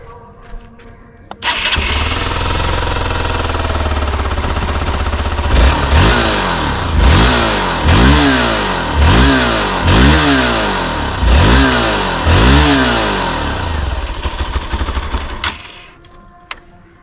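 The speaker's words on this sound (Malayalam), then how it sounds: "നമുക്ക് വണ്ടിയുടെ എക്സോസ്റ്റ് നോട്ട് ഒന്ന് കേട്ട് നോക്കാം." A Hero Xpulse 200 4V Rally Pro motorcycle fires up, settles into a steady close idle, then gets about seven sharp throttle blips in a row before the engine is switched off.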